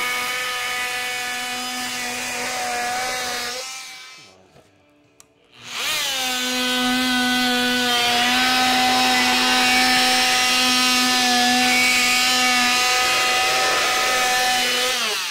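A Dremel Velocity 7.0 amp corded oscillating tool cutting through wood gives a loud, steady buzzing whine. The whine stops briefly and then resumes with a rising pitch as the blade bites into the wood.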